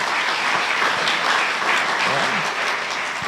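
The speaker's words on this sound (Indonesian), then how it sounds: "Beri tepuk tangan dulu untuk Tuhan kita." A church congregation at a Sunday worship service in Batam claps together, a full and steady wash of applause close by that continues throughout, with no voices rising above it.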